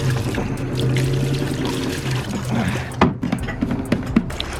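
Water pours steadily into a container to submerge a dirty intake manifold soaking in Super Clean degreaser, a continuous trickling splash with a few sharper knocks and clatters near the end, heard up close with no talk.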